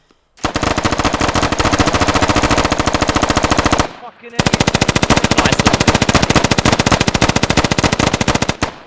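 Sustained rapid automatic gunfire in a tactical video game match, loud and dense, in two long unbroken bursts separated by a brief pause.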